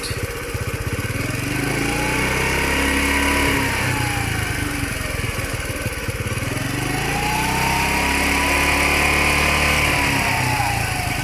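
A Honda Super Cub motorcycle engine runs steadily up close with an air leak at the carburetor flange gasket, its uneven idle rising and falling in pitch twice, with a rough, slightly sputtering tone throughout.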